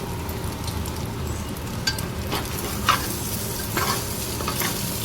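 Egg fried rice with pepper frying and being stirred in a pan, a steady broad sizzle with scattered scraping clicks of the spatula, close and continuous with no talking.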